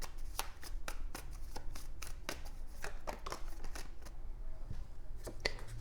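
Tarot cards shuffled and drawn by hand in a run of crisp, rapid riffling and snapping flicks, close and continuous with no talk over them.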